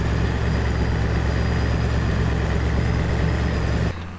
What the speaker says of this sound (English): Once again, I am being left in a tractor that I have never driven before.